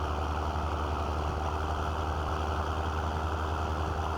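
A John Deere 7810 tractor engine in Farming Simulator 22 idles with a steady, low diesel drone that holds an even, unbroken hum throughout with no talking.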